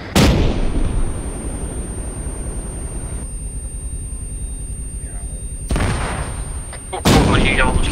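Tank cannon firing in Arma 3, a loud close blast at the start followed by a long rumbling tail, then two more heavy booms later, with people talking.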